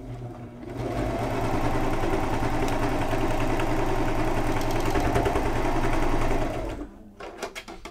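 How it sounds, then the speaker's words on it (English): A serger, an overlock sewing machine, runs a steady, loud, even whir of rapid stitches for about six seconds, then stops, followed by a few light clicks of handling, with no talk. "I'm going to sew 1 or 2 stitches on top of where I started"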